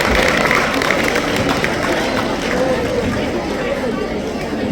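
Applause and crowd noise from an audience at a school seminar, a steady dense wash of clapping and chatter filling the whole stretch at close range.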